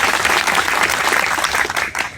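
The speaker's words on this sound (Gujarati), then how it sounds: "એના માટે આપણે જોરદાર તાળીઓ તેમને વધાવી" Crowd applauding at a rally of the Koli community, a loud continuous wash of many hands clapping close by, steady throughout the short burst.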